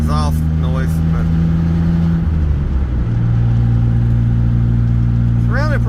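An old car's engine runs steadily at close range with a droning exhaust note and slight vibration. A brief pitch shift midway sounds like a change in revs, and someone talks over it now and then.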